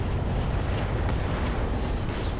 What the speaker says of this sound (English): Chem laser ammunition explosion